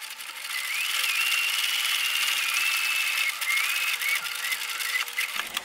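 A sewing machine runs a steady stitch along the turned-up quarter-inch bottom hem of a small fabric mitten for an 18-inch doll, a continuous close whirring hum lasting several seconds before it stops, with no talking.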